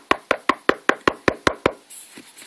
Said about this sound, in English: I'm going to knock on it.